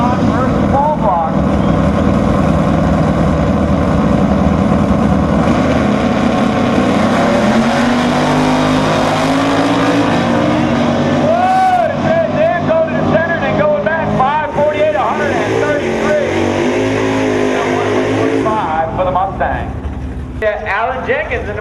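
Drag race cars with big block and small block engines sit loud and continuous at X275 qualifying at MIR, engine roar rising and shifting throughout, with a public-address announcer talking over the noise.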